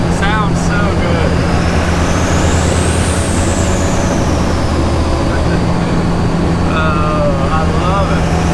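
A Cummins diesel-swapped Jeep drives along with a loud, continuous low engine drone and road noise, while a person talks over it.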